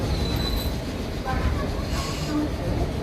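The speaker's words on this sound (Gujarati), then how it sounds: "3 કોચવાળી DMU એટલે કે ડેમો ટ્રેન" Inside a three-coach DEMU local train near Morbi, the coach rolls along with a steady low rumble, faint wheel squeal and light rattling, close and continuous for a few seconds.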